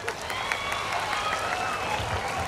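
An audience at a competitive-exam guidance session claps in steady, dense applause filling the whole moment, moderately loud and unbroken.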